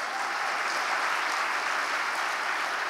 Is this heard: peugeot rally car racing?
no